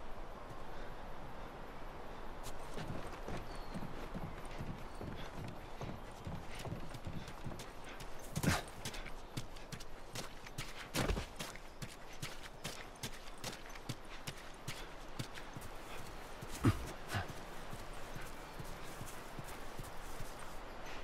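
Horses' hooves clip-clopping steadily in The Last of Us, a continuous walking rhythm over a busy outdoor ambience, with a few sharper knocks along the way.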